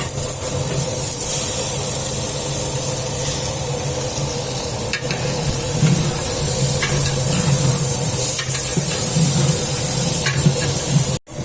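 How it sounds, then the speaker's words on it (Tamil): Ginger garlic paste and mint fry in oil in a pan, a loud, continuous sizzle and hiss with faint stirring scrapes running throughout, close up, ending in a sudden brief cut-out. "இப்போ நல்லா வதங்கிடுச்சு நம்ம இஞ்சி பூண்டு பேஸ்ட் எல்லாமே வதங்கிடுச்சு"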